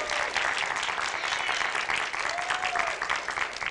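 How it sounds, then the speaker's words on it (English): An indoor audience claps steadily in a sustained burst of applause, a dense even patter of many hands, with a faint voice briefly audible beneath it. "please give thunderous applause"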